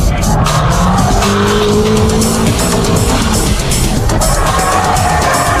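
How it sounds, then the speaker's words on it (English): A car drifts under Keiichi Tsuchiya's control with loud, continuous tire squeal and a roaring engine, sustained and close throughout, with faint talk underneath. "Keiichi Tsuchiya drifts using 6 different drift techniques"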